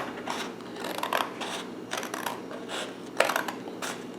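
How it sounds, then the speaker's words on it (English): A child cuts out a paper Easter egg with scissors, turning the paper while the blades stay still, giving a series of short, crisp snips and rustles at close range with small pauses between cuts. "get those scissors, and we're going to cut it"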